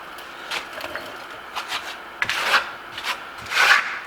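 A steel Pavon trowel spreads Marmorino Venetian plaster, giving soft scraping rubs in short separate strokes, a few louder rasping passes near the end, close up with no talk.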